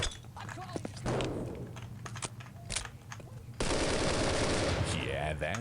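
Rapid automatic gunfire in Postal 2: Paradise Lost, with short bursts early on and then a long, loud, continuous barrage of shots and impacts, close and dense, with a voice talking over parts of it.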